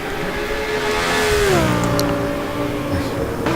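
Audi and Porsche racing cars drive past, engines revving with a falling pitch as they sweep by at close range, with a commentator talking over the sound.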